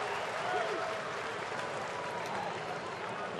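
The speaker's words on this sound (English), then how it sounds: "A lot of Reds fans in Atlanta today, and they applaud Choo's first hit of the day" Reds fans in Atlanta's ballpark applaud a batter's first hit of the day, a steady, distant wash of clapping from a large baseball crowd sustained throughout, with a commentator's voice over it.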